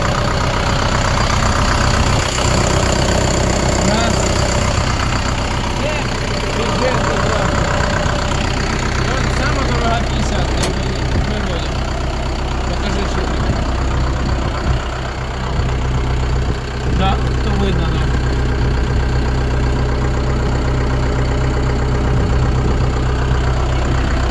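A steady, loud tractor engine, a Lovol motor, idles close by with a continuous low rumble and knocking throb, while someone talks over it.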